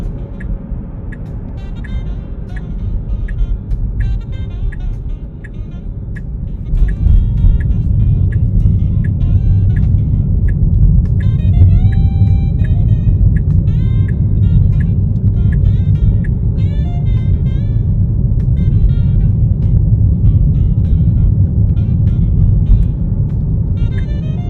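A Tesla Model 3 cruises along Almaden Expressway in San Jose with a steady road and tire rumble that grows louder as it speeds up. Soft, brief navigation tones sound over it.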